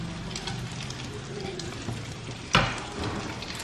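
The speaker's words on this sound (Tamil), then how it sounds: "ஓரளவுக்கு மீடியம் ஃப்ளேமில் வச்சு ஃப்ரை பண்ணுங்க" French toast roll ups frying in a pan over a medium flame give a soft, steady sizzle, with one sharp clatter partway through and a voice talking over it.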